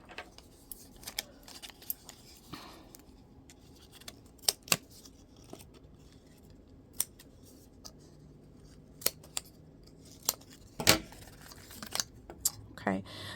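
Scissors snip open plastic packaging on a crochet hook bought at a craft store, a series of sharp isolated clicks and cuts spaced irregularly over a faint background hum, growing busier toward the end.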